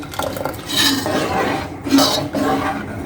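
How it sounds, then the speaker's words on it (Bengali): A falooda mixture stirred into cow's milk in a pot, with steady scraping and clinking of a utensil against the pot's metal sides in continuous swirling strokes, close and fairly loud. "অ্যাড করে নেবো আস্তে আস্তে নেড়ে আমি মিশিয়ে নেব সুন্দর করে"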